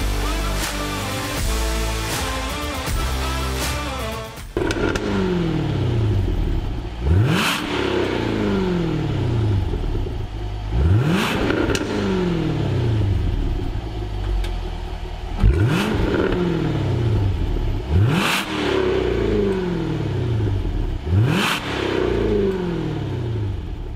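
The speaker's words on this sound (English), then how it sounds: "let's find out exactly what this roaring V8 Jaguar sounds like now." Jaguar F-Type P450 V8 on its stock exhaust, revved repeatedly in loud, rising bursts about every four seconds, each climbing then falling back to a steady idle, with a brief mechanical clatter at the start.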